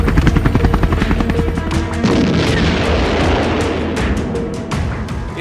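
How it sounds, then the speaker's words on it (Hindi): A Russian Mi-24 military helicopter thuds with loud, rapid rotor beats at first, then a heavy booming blast spreads into a broad roaring rumble that fills the rest. "तस्वीरों में पहले एक हेलीकॉप्टर दिखता है।"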